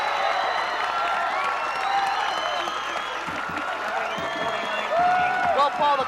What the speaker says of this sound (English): the crowd loves this one